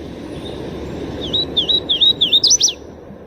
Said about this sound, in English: If you're lucky, you can even hear him singing in the forest.